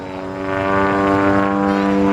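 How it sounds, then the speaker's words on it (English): Aerobatic propeller airplane engine droning steadily through a slow roll, a loud sustained harmonic hum that swells slightly in strength, with no talking. "Now the airplane goes up, he's upside down right there, hold it right there."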